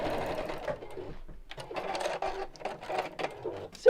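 A sewing machine stitches one end of a ribbon into a seam, running in close, loud, uneven bursts with brief pauses between runs.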